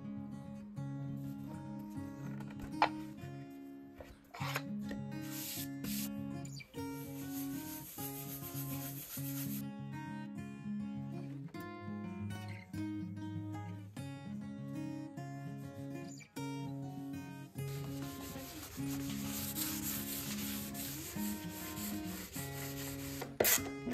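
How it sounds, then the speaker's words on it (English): Wood wax top coat being rubbed by hand onto a wooden game board, a steady soft rubbing and wiping sound running throughout beneath continuous background music. "And then it was safe to apply a top coat of wood wax."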